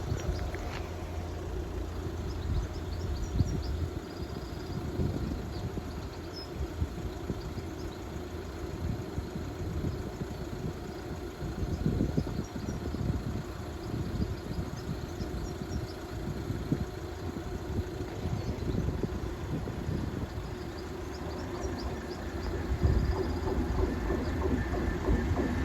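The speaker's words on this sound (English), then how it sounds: "Train 1 now approaching." A train approaches the Ulceby level crossing, a steady low rumble and mechanical drone that stays fairly constant at a distance, with faint rattles and a slight build toward the end.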